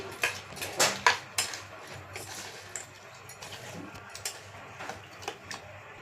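Mango pieces being mixed in a bowl give a series of light clinks and scrapes of a spoon against the dish, close and fairly quiet, with no talking.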